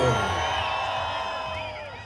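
Festival crowd at a country fair in Juiz de Fora cheering and whooping, a dense wash of voices with shouts rising above steady music, loud and continuous throughout.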